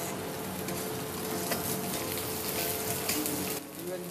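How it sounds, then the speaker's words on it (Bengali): A tablespoon of garlic paste stirred and fried in a pan for prawn malaikari: loud, dense, continuous sizzle with stirring scrapes, close by, easing slightly near the end. "1 টেবিল চামচ রসুন বাটা এর মধ্যে দেওয়া হলো, দিয়ে নেড়ে খুব ভালো করে ভাজতে হবে"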